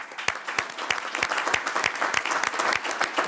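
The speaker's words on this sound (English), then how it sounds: "Let's give her applause" A tribal council meeting audience claps for Miss Cherokee, a small group with distinct individual claps in a fairly quick, uneven rhythm, moderately close and heard alone.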